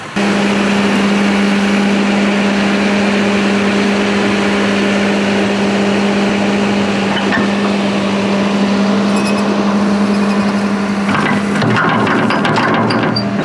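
A tractor engine drones with a constant low hum, idling evenly for the whole stretch before a brief rattle near the end.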